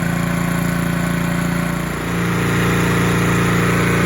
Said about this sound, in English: the lawnmower's warmed up